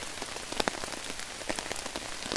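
Rain falls through a green forest in sunshine, a steady patter of drops striking leaves and surfaces with scattered sharper taps, moderately quiet and with no voices.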